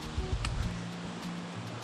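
Twin Falls on the Overall Run trail in Shenandoah National Park gives a steady broadband rush of falling water, fairly faint and distant, with some low rustling in front of it.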